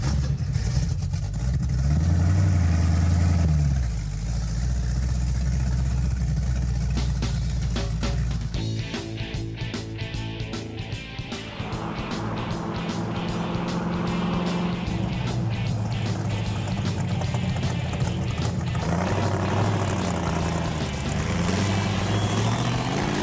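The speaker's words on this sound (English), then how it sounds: "It's spinning the tires right there." A Mercury Cougar accelerating hard with its tires spinning, the engine roaring loud and close through rising revs and gear changes, the sustained rumble filling the whole stretch.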